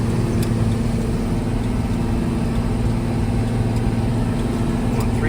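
A 200-horsepower tractor pulls a 7-bottom plow through frozen ground and brush in Minnesota, its engine droning steadily and loudly with a constant low hum and no letup.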